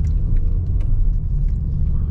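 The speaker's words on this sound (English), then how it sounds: "Look at that AMG GT in line too." A Mercedes-AMG GT sports car idles nearby in a drive-through line, giving a deep, steady low engine rumble that stays constant and fairly loud throughout.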